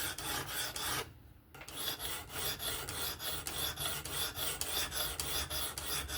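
Kizer October 20CV folding knife being sharpened on a Work Sharp Professional Adjust, repeated rhythmic rasping strokes of the abrasive along the blade, close and steady, with one brief pause near the start.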